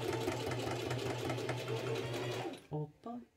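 A domestic sewing machine runs steadily as it stitches fabric over a bra cup, a loud, close motor hum that stops abruptly, followed by a few short bursts of speech.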